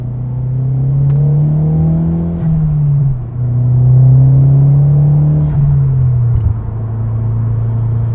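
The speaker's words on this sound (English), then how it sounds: "Interior sound, rolling start, accelerating from second gear." Cabin sound of a second-generation Mazdaspeed3 with a COBB catback exhaust accelerating from a rolling start in second gear, a loud steady engine drone rising in pitch, dipping at shifts, then climbing again.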